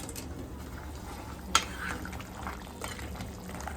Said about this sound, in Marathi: आता याच्यात गरम पाणी टाकलं